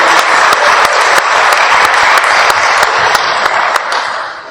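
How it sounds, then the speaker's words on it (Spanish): A church congregation applauds during a talk on the Eucharist, loud continuous clapping with a few sharper individual claps standing out, tapering slightly at the end. "Un aplauso al Señor."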